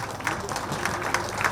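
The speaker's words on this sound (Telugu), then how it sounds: "మరొకసారి గట్టి క్లాప్స్ కొడదాం" An audience applauds at the inauguration of a pyramid meditation centre, a brief burst of close, dense clapping with a voice over it.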